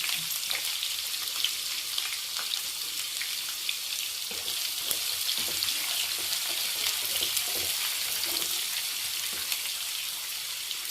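Finely chopped onions frying in a pan give a steady, close hiss of sizzling with faint crackles and occasional stirring scrapes throughout.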